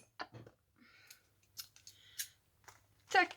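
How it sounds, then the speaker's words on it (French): Scissors snip through a package being opened, a few sharp crisp cuts close to the mic with a louder cluster near the end, no speech over them. "on va prendre une paire de ciseaux"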